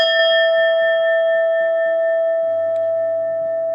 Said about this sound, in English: now at the sound of the bell